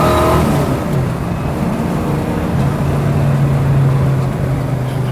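A 1965 Ford Mustang A-code fastback with a four-speed manual accelerating hard, its loud engine roar rising and holding close by over steady road noise.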